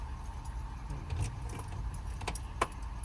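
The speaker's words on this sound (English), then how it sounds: "Thank you for bringing us our keys." Car keys jangle and clink near a crawler vehicle, soft metallic rattles scattered over a quiet low hum, ending with one sharper jingle.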